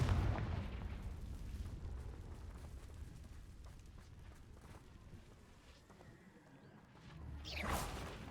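Confringo blasting spell detonations in the Hogwarts Legacy video game, deep rumbling booms rolling under the scene, with a louder whooshing blast surging near the end.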